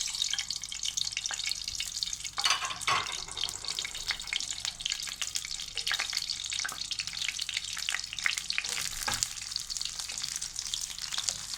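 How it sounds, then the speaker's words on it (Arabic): Bread pieces fry in hot oil in a pan for Egyptian fatta, giving a dense, continuous bright sizzle with occasional stirring clatters, close by and steady. "نستغل وقتنا ونعمل ايه، نحمر العيش"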